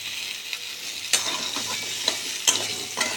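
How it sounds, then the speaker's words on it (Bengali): Potatoes fry in oil in a wok with a continuous close hiss and crackle, broken by a few sharp scrapes and knocks of a utensil stirring them. "কড়াইয়ে তেল দিয়ে দিলাম, আলুগুলো ভেজে নেব।"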